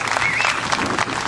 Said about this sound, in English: please give him, even though he's not here, a huge round of applause for that as well.